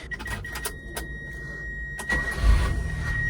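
A car engine cranking and catching in a garage, a short starter whir followed by the engine firing up and settling into a steady idle, close and fairly loud with clicks and rattles before it.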